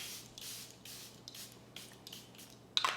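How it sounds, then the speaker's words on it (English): Several quick bursts from a travel-size Charlotte Tilbury makeup setting spray, a steady series of close, soft hissing mists with short pauses between them. "This is the travel size of the Charlotte Tilbury setting spray."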